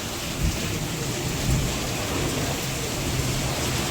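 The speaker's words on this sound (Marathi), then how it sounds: "खूप मोठा अर्धापूर मध्ये पावसाला सुरुवात झालेली आहे" Heavy rain pours during a windy storm over Ardhapur town, a dense, steady hiss filling the whole stretch, with a couple of soft low rumbles that may be distant thunder.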